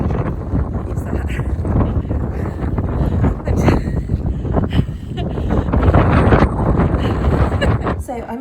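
Strong wind buffets the microphone on an outdoor walk, giving a loud, rough, rumbling rush that rises and falls, while a person talks beneath the gusts.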